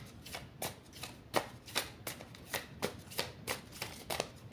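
Tarot cards are shuffled in quick riffles, a rapid series of crisp, close fluttering snaps at a steady rhythm, with no talk over them.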